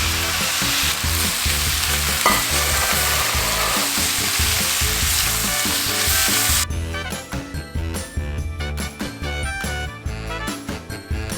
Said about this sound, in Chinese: 然后我们就把刚刚切好的葱白还有红葱头加进去，再把它们给翻炒一下